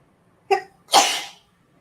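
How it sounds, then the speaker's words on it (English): A single sudden human sneeze, a brief sharp intake followed by a loud, breathy burst that fades within half a second, close to the microphone in a quiet room. "Bless me. Bless you."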